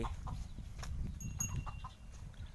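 Chickens cluck faintly and intermittently near a rice field in the morning, with scattered soft calls over a low, steady outdoor background rumble.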